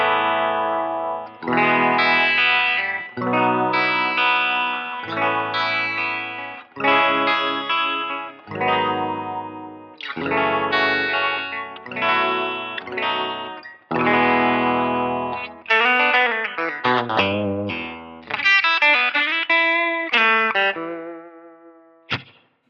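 A Harley Benton CST 24HB electric guitar played on the bridge pickup through distortion and chorus effects, with a run of strummed chords and rising picked notes, each ringing out then cut off, loud and alone.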